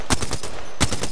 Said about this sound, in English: I'm just shooting now